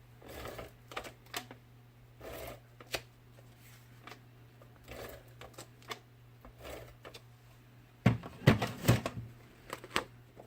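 Paper pieces being pressed and adhered onto a handmade stamped greeting card, giving soft scattered taps and rustles, then a louder cluster of crisp paper crackles and handling sounds near the end, close and quiet with no talking.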